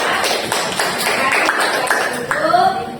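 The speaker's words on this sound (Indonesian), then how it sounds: "kita berikan tepuk tangan untuk kelompok 2" Dense crowd clapping for a student discussion group in a classroom lesson fills the clip, with brief speech-like tones rising over it near the end.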